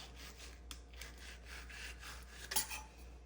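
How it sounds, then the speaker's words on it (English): A knife cuts through raw salmon in rhythmic rasping strokes, close and fairly quiet, with a sharper scrape near the end and no voices. "you cut the meat there and then just put your knife through the bottom"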